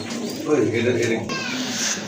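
Baghdadi Homa pigeons coo softly at close range, low throaty calls repeating under someone talking throughout.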